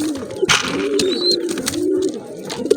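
Pigeons in a loft, a pair with young Chandrakani and Rampuri birds, give low rolling coos that run steadily and close, with a brief thin chirp and a few faint background noises.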